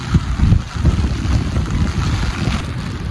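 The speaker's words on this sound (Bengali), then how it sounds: "প্রচণ্ড বাতাসে ছাতা ধরে রাখা যাচ্ছে না" Strong gusting wind buffets the microphone during heavy rain on an empty New York street, a loud, continuous low roar with irregular surges and no voices.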